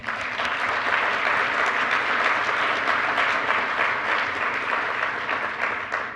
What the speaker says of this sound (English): We could all give her a round of applause